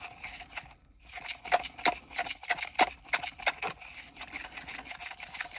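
Resin mixture stirred in a cup with a few squirts of colouring, making irregular scraping and knocking strokes against the cup walls, close and fairly quiet.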